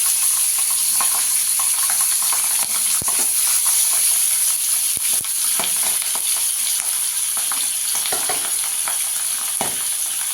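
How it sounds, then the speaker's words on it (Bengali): Pabda fish frying in a small amount of oil in a pan, a loud continuous sizzle with scattered sharp crackles and pops throughout, no one speaking. "এখানে আমি প্যানে তেল দিয়ে দিয়েছি, মাছটা ভেজে নেব।"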